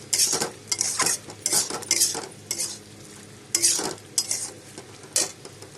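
Pointed gourd and potatoes with spices are stirred in a pan, a spatula scraping in irregular bursts over a soft sizzle, with metallic clinks and short pauses between strokes.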